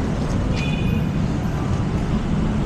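Steady roar of street traffic and passing rail cars at the Baclaran LRT station in Manila, a dense continuous rumble with a brief high squeal partway through.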